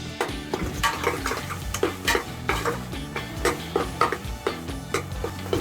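Masala with chopped coriander and mint stirred and fried in a pan, a steady soft sizzle under repeated scraping and clinking strokes of a spoon against the metal, fairly quiet and close.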